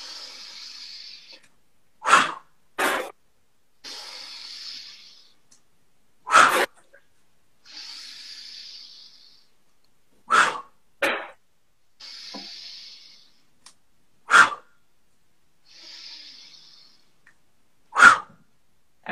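Forceful breaths out during a wood-chop squat exercise, a series of sharp, loud exhalations repeated about every four seconds, each preceded by a softer hissing inhale.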